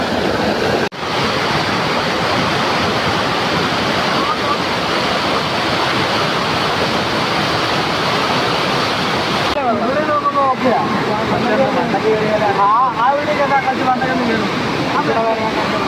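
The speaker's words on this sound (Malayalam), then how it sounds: "ഇവിടെ നോക്കിയാൽ വലിയൊരു വെള്ളച്ചാട്ടം." Steady roaring rush of Thonippara waterfall, seen from above, loud and continuous, with a brighter splashing texture toward the end.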